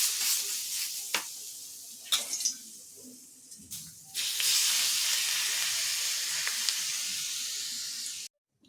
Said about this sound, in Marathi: तर हे सर्व साहित्य छान तळल्या जात आहे. तेल गरम आहे.